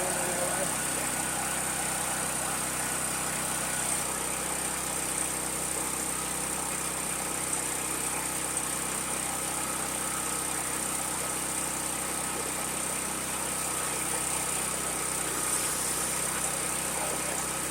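A Firman HO7552 generator runs in a steady, even drone with a constant mechanical hum and no changes in pitch or level.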